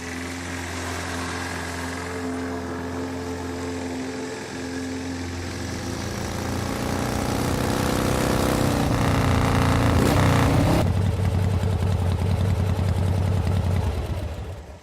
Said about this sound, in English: his sister Yuki arrives on her pink motorcycle